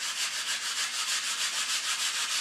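Bio foam is sanded by hand with 60 grit sandpaper in quick, regular back-and-forth strokes, giving a close, steady, rhythmic scratchy rasp.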